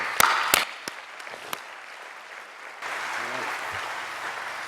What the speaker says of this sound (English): Another round of applause for Kevin.